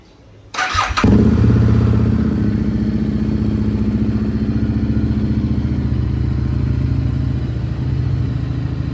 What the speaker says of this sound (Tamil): ஸோ வண்டியை இப்போ லைட்டாக வார்ம் பண்ணி பார்த்துடலாம் எப்படி கண்டிஷன் இருக்குங்கிறத